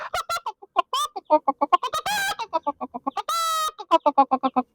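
A man vocally imitates a hen cackling in pain, giving a long run of rapid, rhythmic squawking clucks with two drawn-out shrill cries in the middle, loud and close with no other talk.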